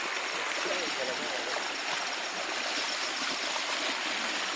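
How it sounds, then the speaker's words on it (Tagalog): A river streams steadily nearby, a continuous broadband rush of flowing water heard during an outdoor spider hunt, with no break in the sound. "Yan na yung ilog yung sinasabi namin."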